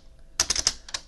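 Quick keystrokes on a computer keyboard: a short burst of about five clicks followed by two more, close and fairly quiet in an otherwise still room.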